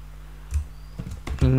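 Someone types code on a computer keyboard in short bursts of crisp key clicks, close to the listener. A voice comes in near the end.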